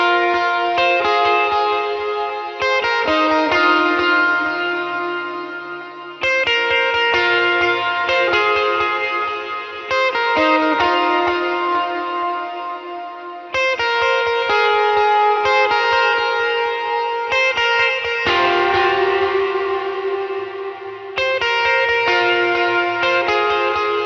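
An electric guitar plays a riff through distortion, chorus and reverb effects, with sustained chords and notes ringing over about twenty-four seconds and no voice present.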